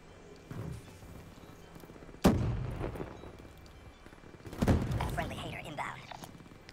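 Heavy shots boom in Black Ops III online play on the Empire and Rumble maps, two loud blasts a couple of seconds apart with lingering rumble, under a player's voice.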